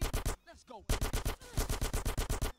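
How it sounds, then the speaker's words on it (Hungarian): Rapid bursts of gunfire in the video game GTA San Andreas on PS2, loud repeated shots in quick succession with a short pause, a voice speaking briefly in between. "Ne lövöldözz már."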